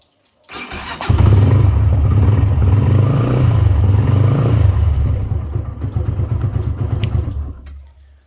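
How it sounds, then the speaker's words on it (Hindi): A motorcycle is started on its electric self-starter with the ignition on: a brief starter whir, then the engine catches and settles into a loud, steady idle close to the microphone, with some rev variation before it trails off. "तो पहले तो हम इसका इग्निशन ऑन करते हैं और इसको अभी मैं सेल्फ देता हूँ।"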